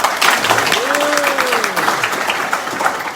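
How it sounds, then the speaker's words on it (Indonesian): Crowd applause at a motivational business seminar, dense and fairly loud throughout the short stretch, with a voice calling out briefly over the clapping. "Tepuk tangan yang meriah."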